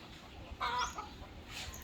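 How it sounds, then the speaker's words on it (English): A single short hen cluck rings out fairly close, followed by a softer second call over quiet farmyard background. "Look at chickens breaking that manure down."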